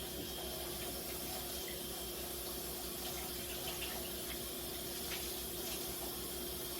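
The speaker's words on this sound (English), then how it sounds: "So I'm rinsing the nut bag." Steady tap water runs continuously while a nut milk bag is rinsed in a sink, a constant mid-level rushing flow with no voices.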